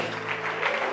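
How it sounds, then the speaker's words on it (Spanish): Church congregation breaking into applause during Mass, a dense, steady wash of clapping that fills the whole moment with no voices over it. "Denle un aplauso a la Eucaristía"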